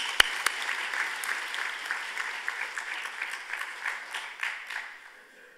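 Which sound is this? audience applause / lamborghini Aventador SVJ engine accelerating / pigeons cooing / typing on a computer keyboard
audience applause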